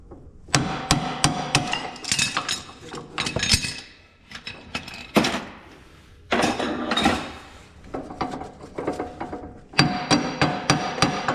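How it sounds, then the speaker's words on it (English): Repeated sharp metallic hammer taps in irregular clusters, ringing and clanking close by, with short pauses between bursts of striking. "I don't suppose now the hammer will tap it out."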